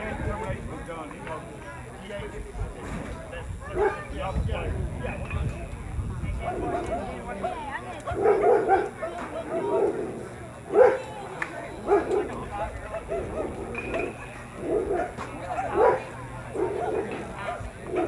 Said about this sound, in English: We got two dogs now over here barking, and it is really loud.